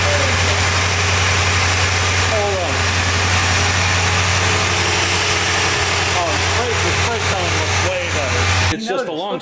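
A C4 Corvette engine runs steadily after a long crank, a loud low idle drone with voices talking over it before it cuts off near the end.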